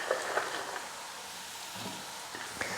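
Pakoda pieces dropped into a pan of frying onions give a soft, steady sizzle, with a few light taps and stirring scrapes near the start and end.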